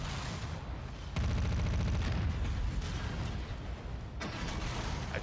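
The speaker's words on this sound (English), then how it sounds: "There's that ultra auto cannon going off." An ultra auto cannon in a mech combat video game fires in a dense, loud burst of rapid repeating shots amid explosive battle noise, the rhythm most distinct after the first second.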